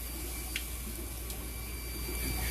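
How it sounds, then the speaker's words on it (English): Tap water runs steadily through a PVC drain system in a fish room, a continuous soft rushing wash with faint drips over the top, moderately close and uninterrupted. "All of the tap water goes through all of the drain systems, and then I let it drain outside for a little while"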